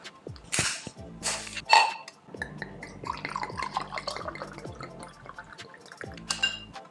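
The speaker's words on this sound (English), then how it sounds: "So I have my bottle of wine here. Let me just pour this up." Wine poured from a bottle into a glass, heard as a close series of glugs and splashing liquid with short bursts of trickling, uneven in rhythm, with no voices.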